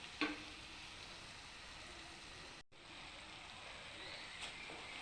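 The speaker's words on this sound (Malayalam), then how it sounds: "മീനിട്ടതിന് ശേഷം നല്ലതുപോലെ ഒന്ന് ഇളക്കണം." Fish pieces sizzle in hot oil in a pan while being stirred for fish pickle, a steady soft crackling hiss with a brief clatter near the start and a short gap midway.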